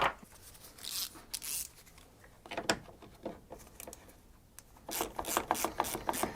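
A socket ratchet clicks in short bursts on the steering box of a 2007 Ford Ranger 2.5 TDCi 4x4. The rapid pawl ticks are close and crisp, with a quieter stretch in the middle and faster clicking at the end.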